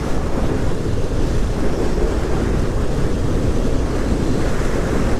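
Wind rushing through a gap at the top right of a Leopard DVS helmet visor, a loud continuous roaring buffet with steady broadband turbulence and no pauses.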